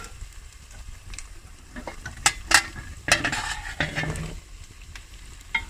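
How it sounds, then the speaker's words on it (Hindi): Carrots, radish and green chilies sizzle in a pan for pickle while a utensil stirs them, with louder scraping strokes in the middle over a steady close frying hiss. "अब इसको दोबारा से हम इस तरह हिलाते हुए फ्राई करेंगे।"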